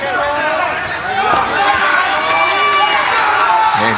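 A fight-night crowd at the UMAC venue in Tulsa, Oklahoma, fills the room with a steady, dense murmur of chatter and scattered voices, with close talking over it the whole time.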